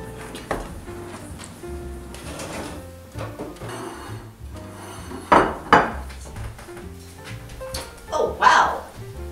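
Metal cutlery clinks and scrapes among dishes in a kitchen, a few sharp clattering bursts standing out against quieter rummaging, fairly close.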